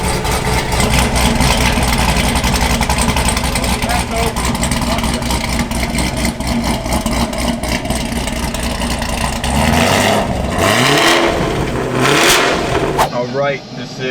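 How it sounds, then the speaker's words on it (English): A 2022 Camaro with a full cam package and flex fuel kit roars loudly and steadily with deep engine rumble, then revs drop and rise in a couple of bursts near the end before cutting off abruptly. "this is a 2022 Camaro. Got a full cam package and a flex fuel kit."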